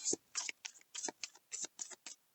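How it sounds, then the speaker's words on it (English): A large tarot card deck is shuffled by hand close up, giving a quick series of crisp riffling bursts in an even rhythm, quiet with no talking. "I do feel like I'm going to shuffle this as well."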